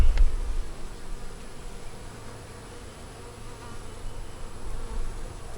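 Honeybees at an open hive during an inspection, a continuous close droning hum of many insects with small swells in loudness and no talking.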